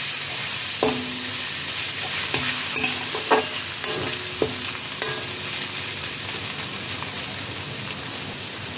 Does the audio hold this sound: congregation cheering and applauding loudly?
no